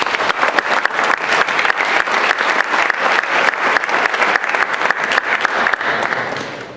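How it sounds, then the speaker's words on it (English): A room full of attendees at a school district board of education meeting applauds Patrick Bomer, dense sustained clapping at steady loudness for several seconds with no talking over it. "Patrick Bomer, give him a round of applause."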